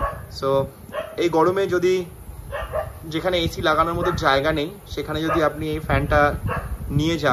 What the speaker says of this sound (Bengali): বাইরে কুকুরগুলো খুব চেঁচাচ্ছে।